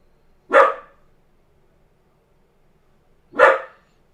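A dog barks twice, single sharp barks spaced about three seconds apart, close and loud against a quiet background.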